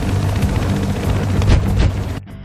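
A helicopter in the Battlefield video game thrums with a heavy rotor throb amid booming blasts and gunfire, loud and dense for a couple of seconds before cutting off abruptly.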